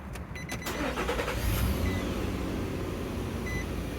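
A Nissan Pathfinder engine starts, a quick crank followed by a close, steady idle, with a few beeps at the start.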